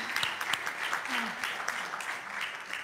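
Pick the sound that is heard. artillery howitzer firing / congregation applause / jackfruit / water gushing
congregation applause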